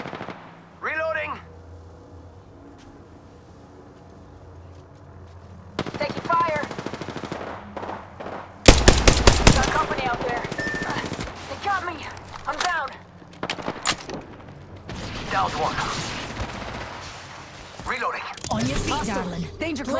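Automatic weapon fire in the shooter video game Apex Legends, rapid loud bursts of gunshots and impacts in a chaotic firefight, with short character voice callouts and game sounds between volleys.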